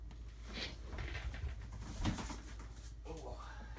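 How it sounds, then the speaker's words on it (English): A pet pigeon coos softly nearby indoors, with a few brief murmurs and shuffling noises around it. "He's my pet pigeon."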